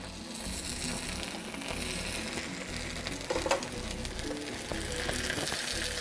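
A tequila chicken quesadilla cooks in melted butter in a pan, giving a dense, steady sizzle and crackle that holds throughout, close and without talk.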